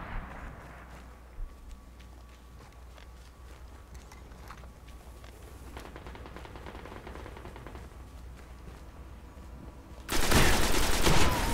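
Destiny firefight on PlayStation 4 with shotgun blasts, muffled shots rattling in the background for most of the stretch before a sudden loud, dense burst of fire near the end.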